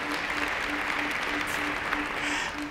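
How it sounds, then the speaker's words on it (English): At a South African football awards ceremony, an audience claps steadily and fairly softly for an award, with a faint repeating tone running beneath the applause. "give it applause, please, please"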